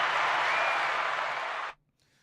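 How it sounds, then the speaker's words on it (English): Round of applause from an audience at a talk, a steady dense wash of clapping that holds for almost two seconds and then cuts off abruptly. "round of applause"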